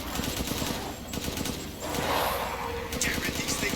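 A dense fusillade of rapid gunfire fills a tense fight in the video game Resident Evil Village, with overlapping bursts and thuds and a voice heard beneath the shooting.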